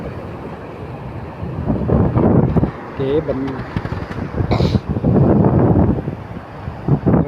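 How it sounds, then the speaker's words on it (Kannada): Big sea waves surging and crashing at Someshwar Beach, Mangalore, a loud broad roar rising and falling with gusty wind buffeting the microphone, with a brief voice and a few other sounds partway through. "ದೊಡ್ಡ ದೊಡ್ಡ ಅಲೆಗಳು."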